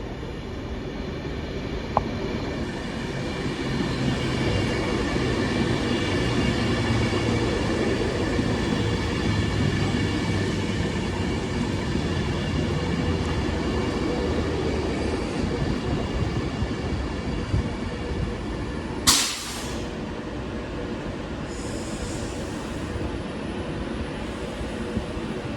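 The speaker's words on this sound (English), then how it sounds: "here comes my ride home in form of the 1511 London North Western Railway service from Crewe to London Euston" London Northwestern Railway electric service from Crewe to London Euston pulling into a Trent Valley Line station, a steady rumbling drone of motors and wheels with a sharp squeal or clank near the end and faint high whine above.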